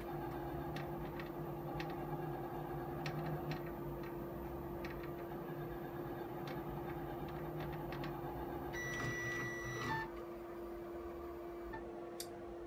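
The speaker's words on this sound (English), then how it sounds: "the machine will move the sewing head to the first needle that has been programmed" An embroidery machine moves its sewing head while tracing a design outline, giving faint, irregular mechanical ticks over a steady low hum, with a brief motor whine near the end.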